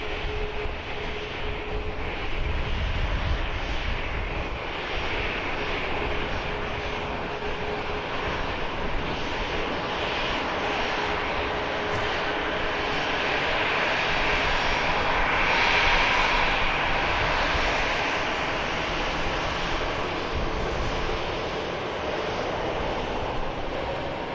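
Jet engines of an Airbus A380 at Manchester Airport roar steadily from a distance, a broad, even wash of engine noise that holds for the whole stretch without speech.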